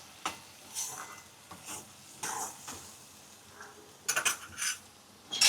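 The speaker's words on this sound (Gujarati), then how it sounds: "હવે આપણે આવી રીતના મિક્સ કરી લઈએ." A spoon scrapes and clinks around a pan as tomato gravy is stirred into masala chana, giving intermittent soft strokes and a cluster of sharper metallic taps near the end.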